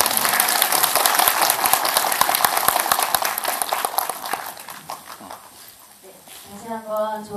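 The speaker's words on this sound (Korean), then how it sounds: "다시 한번 좋은 강의 해주신 고린도 강사님께 큰 박수 한번 부탁드립니다." Audience in a CGV cinema in Cheongju applauding after a lecture, loud dense clapping that gradually thins and fades, with a voice starting to speak near the end.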